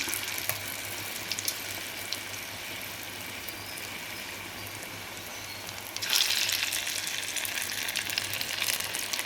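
Banana stem bajji fry in hot oil, a soft continuous sizzle and crackle that grows louder and busier partway through, with no one speaking.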